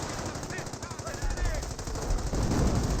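Machine gun fire in the real-time strategy game Company of Heroes, pinning down Panzer Grenadiers: dense, continuous automatic bursts, loud and growing heavier, with faint game sounds mixed in.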